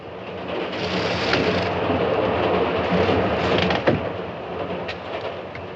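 A train rolls along steadily, heard from inside a carriage in a 1947 film, with a continuous rumbling clatter, a few rattles and knocks, and no break in the noise.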